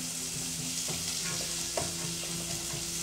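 Two garlic cloves frying in a pan give off a soft, continuous sizzle with occasional faint scrapes and clicks, close but fairly quiet, no talking.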